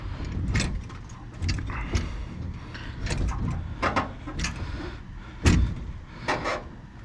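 Fender roller working along a car's rectangular fender lip, heard as irregular thuds, clunks and metallic knocks spaced a second or so apart, fairly close and moderately loud, with no talking.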